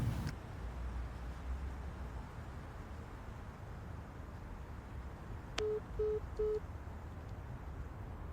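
Busy signal on a phone call to a number that cannot be reached, three short evenly spaced beeps near the end following a quiet stretch of line hiss and low hum.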